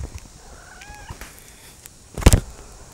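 Kittens mewing softly a couple of times near a large tablet, faint rising calls early on, followed by a brief louder rustle or thump.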